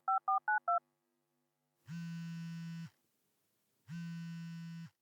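A phone keypad plays four rapid dialing tones, crisp and close in a quiet room, then two long, low buzzing ring tones follow, each about a second, with silence between.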